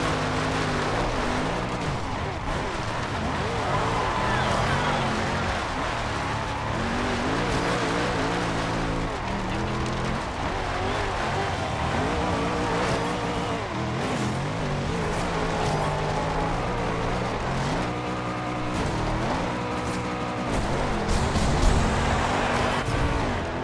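A 2011 Bugatti Veyron Super Sport driven off-road in Forza Horizon 2 gives a steady, loud engine drone with shifting pitch, plus rumble and tire noise throughout, with no talk.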